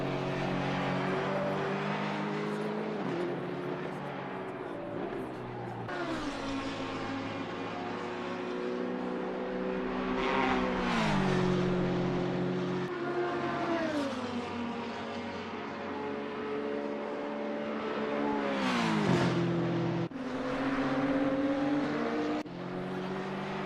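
Race car engines in a racing video game at Watkins Glen, a steady high-revving drone that rises and falls with gear changes and downshifts as cars head down the start-finish straight.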